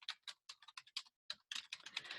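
Typing on a computer keyboard, a quick run of crisp close key clicks in short bursts with a brief pause midway, then a denser flurry of keystrokes.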